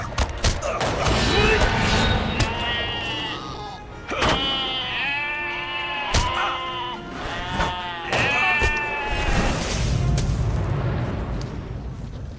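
Sheep in The Lord of the Rings Online bleat repeatedly, several loud wavering bleats close by with short pauses between them, punctuated by sharp clicks.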